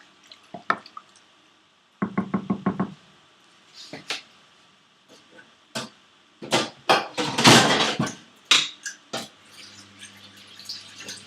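Lamb pieces stirred in a pot with about two cups of water while cooking a Kerala-style lamb fry: a series of clinks, wet scrapes and splashy knocks from a spoon, close and fairly loud, in irregular bursts with one quick rapid run.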